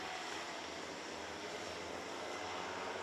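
Micro racing kart engine at full throttle during a race in Mülsen, a dense steady buzzing roar for about three seconds, loud and unbroken, no voices.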